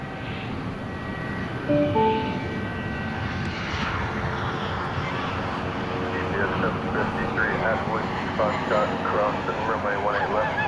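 An American Airlines jet arriving from Los Cabos taxis at DFW Airport at night, a steady loud turbine roar and whine with radio chatter from air traffic control heard over it.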